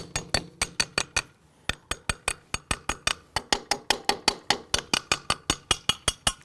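A dense metal spoon taps repeatedly on a plastic sandcastle mold packed with sand, producing sharp, bright clinks in quick, fairly even bursts with one short pause, close and loud with no talking.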